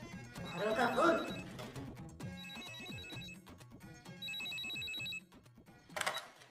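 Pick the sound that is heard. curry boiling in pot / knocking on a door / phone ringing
phone ringing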